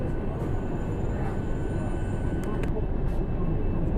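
Mumbai Metro Line 9 train running along its elevated route, a steady loud rumble and rush of wheels and motor filling the car throughout, with faint voices of passengers mixed underneath.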